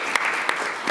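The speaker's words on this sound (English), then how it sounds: "So I want to clap it up for the panel" Audience applause for a panel discussion at a public policy event on economic mobility and free expression, a steady wash of clapping across the brief moment.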